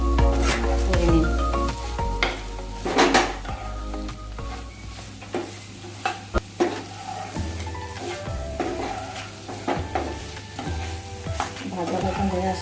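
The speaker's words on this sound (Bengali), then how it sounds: "এভাবে ভাজা ভাজা করে নিন।" Beef liver frying in a pan for a Kashmiri-style bhuna, a continuous sizzle broken by repeated scraping and stirring strokes, with music playing faintly in the background.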